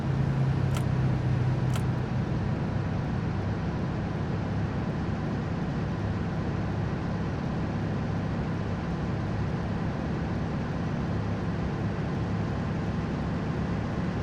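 Steady diesel truck engine drone from the game 18 Wheels of Steel: American Long Haul, a continuous low rumble with constant road noise running through the whole stretch and no voices.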